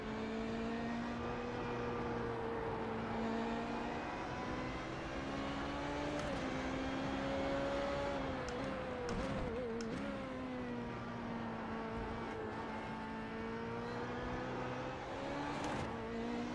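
Race car engine in the iRacing sim, driven on a track with a new formula car, a steady loud engine drone that rises and falls with revs and gear changes throughout, with no talking.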